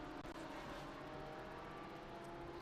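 A pack of race cars at Mid-Ohio taking the green flag make a dense, continuous engine roar from a distance, a steady rumbling wash with no single car standing out.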